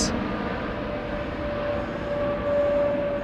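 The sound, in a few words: jet engine spooling down at Heathrow Airport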